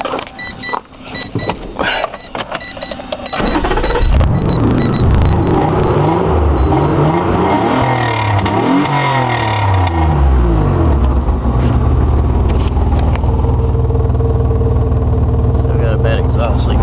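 A 1995 Mazda MPV engine with freshly welded, spliced exhaust pipe and a bad exhaust leak starts and idles loudly, a rough, raspy rumble that revs and then settles into a steady drone.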